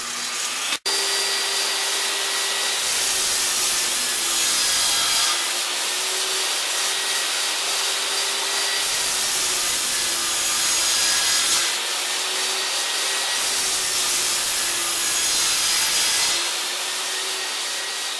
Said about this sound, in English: On the table saw, I set the fence 3/8 of an inch to the inside of the blade.